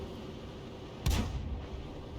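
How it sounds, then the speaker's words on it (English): A single heavy cannon shot from a tank firing high-explosive rounds in the World of Tanks video game, a sudden booming blast followed by a short rumbling decay over a low background hum. "All he's doing is shooting the front of Major MTP's vehicle, and he's doing it with HE rounds apparently."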